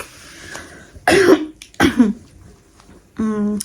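Two harsh coughs about a second apart, close and loud, followed by a short voiced sound like throat clearing or a hum.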